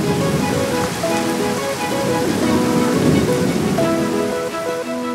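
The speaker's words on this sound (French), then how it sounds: "Vous voyez, ce n'était qu'une petite averse." Steady rain shower in an animated children's cartoon scene, a continuous dense patter with light music over it and no talking.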